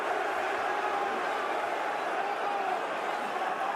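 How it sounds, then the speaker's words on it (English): Loud, dense arena crowd roaring steadily during a mixed martial arts bout between Khamzat Chimaev and Strickland, a continuous wash of cheering and shouting with no break, heard up close throughout. "Pro Strickland crowd."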